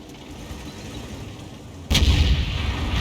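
A tank cannon fires once in World of Tanks, a sudden loud boom at mid-clip followed by a sustained rumbling roar, after a steady low engine-like ambience.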